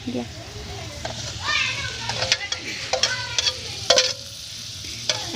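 Food frying in a pan and being stirred, a steady sizzle under clinking scrapes of a utensil against the pan, with people and children talking nearby.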